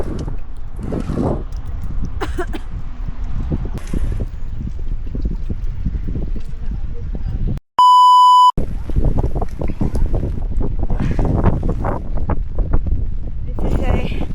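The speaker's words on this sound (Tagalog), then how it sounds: "Masyadong malakas yung hangin." Strong wind buffets a microphone outdoors in heavy rain, a loud continuous rumbling roar broken briefly by a beep, with voices faintly underneath.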